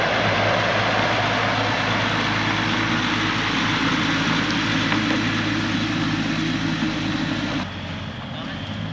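A feed truck idles in a feed store's truck bay, its engine a loud, steady droning rumble that holds unchanged for several seconds before dropping slightly in level near the end.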